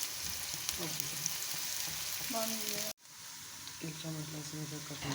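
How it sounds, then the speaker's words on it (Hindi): Chopped onions sizzle steadily in hot oil for a dhaba-style chana dal tadka, a dense frying hiss that cuts out briefly near the middle, with a voice talking over it throughout. "ऑयल शामिल कर देंगे और इसमें डाल देंगे प्याज जो हमने काट ली थी, और इस प्याज को हम गोल्डन ब्राउन करेंगे।"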